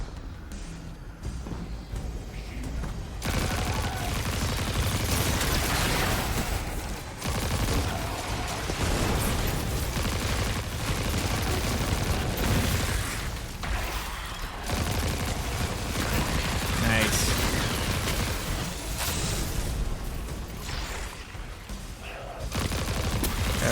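Auto rifle gunfire in Destiny 2, sustained rapid bursts mixed with explosions and combat effects over nearly the whole stretch, loud and dense, with occasional brief pauses.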